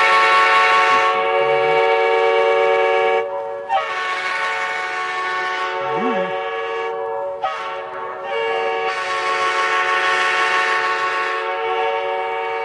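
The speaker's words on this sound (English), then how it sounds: "5-chime horn" A loud locomotive five-chime horn blares in long sustained chords, cut by brief pauses, sounding several times close by at a rail yard.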